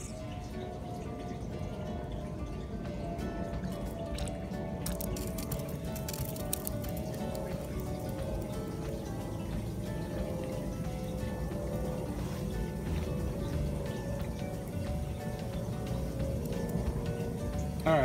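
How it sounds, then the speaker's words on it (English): Potato soil in a RootPouch grow bag is being watered, giving a continuous soft trickling and pattering of water soaking into the earth, steady and close throughout. "Let's wet this soil."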